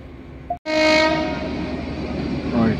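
A LokNayak Express passenger train running from Farrukhabad toward Kanpur gives a loud, close horn blast followed by sustained rolling rail noise, with no voices present.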